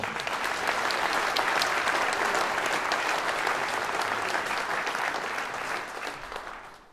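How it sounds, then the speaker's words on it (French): Audience applause at a final campaign rally, a dense sustained burst of clapping from a large crowd that holds steady for several seconds and then tapers off near the end. "Je vous demande d'applaudir très fort Luc Père"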